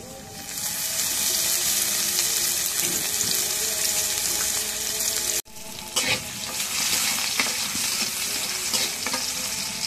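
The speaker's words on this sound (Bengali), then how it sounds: "এখন তেল দিয়ে দিই।" Oil hits a hot kadai with a loud, bright sizzle that fills the scene, cuts off briefly midway, then resumes as a steady crackling hiss.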